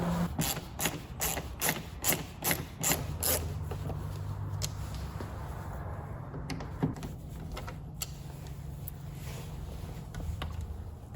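Ratchet driving a Torx T20 bit to remove the tail light on a MINI Cooper, giving a quick run of loud, evenly spaced clicks at first, then quieter scattered clicks and handling noise over a low hum.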